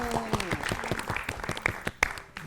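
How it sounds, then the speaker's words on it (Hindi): Brief, sparse clapping from a small group on a kids' learning show, a handful of distinct hand claps over about two seconds, fairly quiet. "तालियां।"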